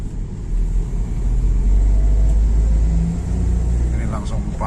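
Car rolling away from a red light and shifting up from first through the gears, a low engine rumble and road drone rising and settling steadily, with someone talking over it.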